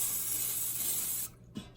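Cooking spray hisses in one steady burst of about a second onto chicken fried steak, close and fairly loud, then a short second puff after a brief pause.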